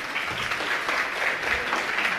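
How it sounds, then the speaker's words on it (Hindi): Steady, loud clapping from a gathered audience at a religious discourse with a Jain monk, continuous and dense throughout the short stretch. "एक बार जोरदार तालियां।"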